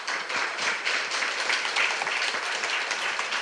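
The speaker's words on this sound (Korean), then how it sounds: "이제 교수님을 모실 때 큰 박수로 환영해 주시기 바랍니다." Audience applause greeting a Sungkyunkwan University architecture professor arriving to give a humanities lecture, steady dense clapping from a crowd, moderately loud and continuous without pause.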